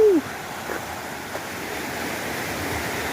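A river swollen after heavy rain rushes past on a forest hiking trail, with a broad, steady roar of churning water, loud and close, after a brief squeak at the start.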